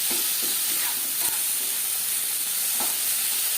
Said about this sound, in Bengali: টমেটো কাঁচা গন্ধ যাওয়া পর্যন্ত নাড়াচাড়া করে দেবো